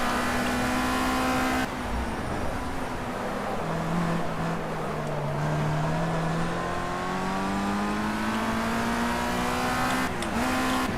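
Formula rookie race car in Project Cars with its engine revving hard and continuously, pitch dipping and climbing through gear changes over about eleven seconds, loud and close with no talk.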